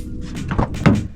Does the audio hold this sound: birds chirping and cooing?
no